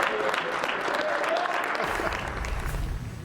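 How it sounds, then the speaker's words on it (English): Room crowd applauding Nikola Jokic's MVP award, a dense wash of clapping at steady volume, joined by a low rumble partway through as it carries on. "We should join in the applause"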